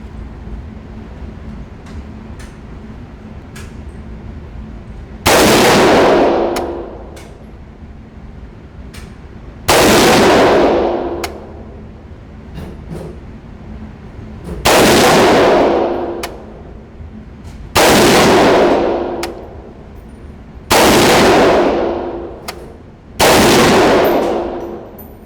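Six sharp, loud rifle shots from a PTR Industries G3 clone fired at a 100-yard range, each a hard crack with a brief decaying tail, spaced several seconds apart, close by and outdoors.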